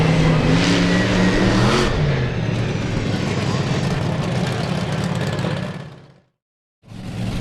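Monster trucks, Summit Bigfoot among them, race through the final turn at an Indiana State Fairgrounds arena, engines roaring loudly with revving bursts before the sound briefly cuts out and resumes, a voice calling the action over it.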